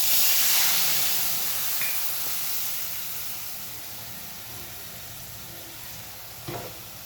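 Panch phoron and dried red chilli sizzle in hot oil, a steady broadband frying hiss that is loudest at the start and slowly fades, with a brief stir or clatter near the end.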